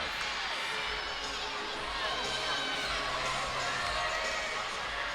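A packed arena crowd roars and cheers at an LSU women's gymnastics meet against Georgia, a dense, sustained wall of shouting and whooping that holds steady throughout.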